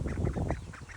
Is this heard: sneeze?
no